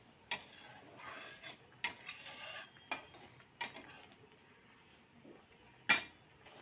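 Prawns marinated and salted, stirred in a pan for a Kolkata-style chingri malai curry: a handful of sharp metallic clinks and scrapes of a utensil against the pan, spaced a second or so apart, fairly quiet with near silence between.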